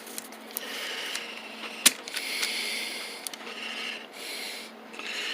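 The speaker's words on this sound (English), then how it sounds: "And got this extra little 1/4-inch ratchet" A small 1/4-inch ratchet with a 72-tooth mechanism gives brief fine clicking and rubbing, close and quiet, with one sharp tick partway through and no voices.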